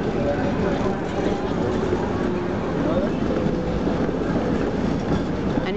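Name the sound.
city tram passing in Amsterdam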